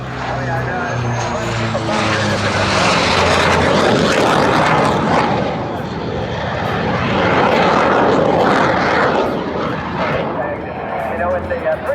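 Powerful aircraft engines roar loud and steady at full power throughout, a continuous broadband rumble that swells and eases slightly, with a voice talking under the noise.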